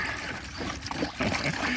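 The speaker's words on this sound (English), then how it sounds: "Pour the distilled or deionized water." Distilled or deionized water being poured while topping up coolant on a 1995 Mercedes-Benz S320 W140, a steady close trickle and splash running through the whole short stretch.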